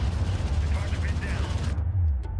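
Rapid gunfire strikes an armored vehicle in the desert strategy game Homeworld: Deserts of Kharak, a dense, loud continuous clatter of shots over heavy low rumble that cuts off abruptly near the end.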